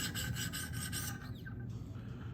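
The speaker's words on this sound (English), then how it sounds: "So I'm starting with the 400 grit" A Spyderco PM2 Maxamet knife blade is honed on a Wicked Edge sharpener with 400 grit stones, a series of close, rhythmic rasping strokes, quick and evenly spaced, ending in a softer scrape.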